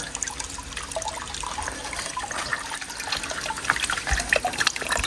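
Water from a solar-powered pump pipe trickles and splashes steadily into a pool, a soft continuous babble with small droplet sounds, fairly quiet and close.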